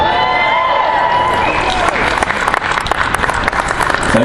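Convention Q&A crowd applauding in a big hall, a rising roar of clapping and some cheering that grows denser and sharper toward the end, with a voice and a few hums over the start.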